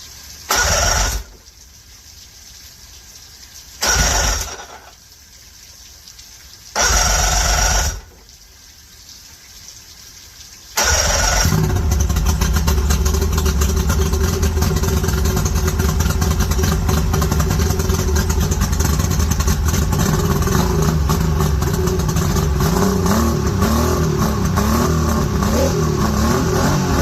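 A used Mercury 50HP outboard motor, with fuel being pushed to its carbs, cranks in three short bursts separated by quiet gaps. It then catches and runs loudly and continuously, roaring steadily for the rest of the clip.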